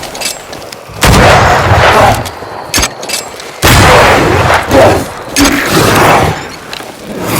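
Gunfire in the game Banishers: Ghosts of New Eden, loud booming shots with long echoing tails, several heavy blasts close together and a few sharper cracks in between.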